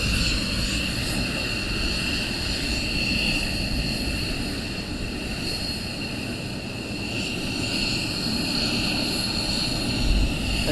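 Military aircraft engines run steadily at RAF Lakenheath, a loud continuous roar and whine that holds nearly constant throughout, close by with no other sounds standing out.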